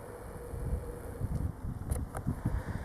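Steady low wind buffeting a microphone, a constant rumbling rush with faint scattered clicks and no voices.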